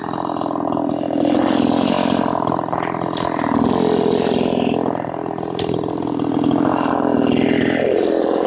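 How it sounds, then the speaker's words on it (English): Husqvarna 357XP chainsaw running steadily near the microphone while cutting firewood, a loud continuous two-stroke drone with slight pitch rises and dips over eight seconds, no talk. "This saw has never ran that good."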